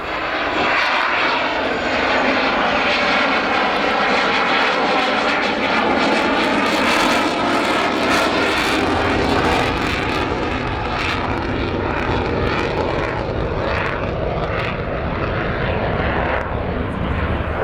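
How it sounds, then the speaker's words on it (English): A Swiss Air Force F-18 jet accelerates through a solo display pass at the RAF Cosford airshow, a loud, steady, roaring engine that fills the whole stretch, up close and unbroken. "And now Teddy Meister is accelerating for his final pass."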